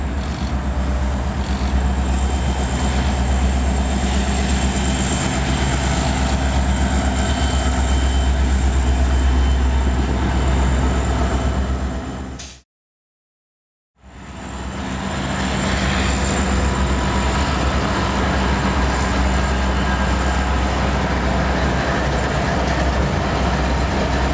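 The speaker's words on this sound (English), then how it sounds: "here's one more coal train" A coal train rolls past close by with a loud, continuous rumbling roar and grinding wheel noise, broken once by a brief drop to silence before the heavy drone resumes.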